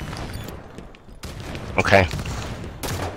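Gunfire during a Halo 5 multiplayer match, with scattered shots and a louder burst in the middle, partly under a player's brief spoken remark.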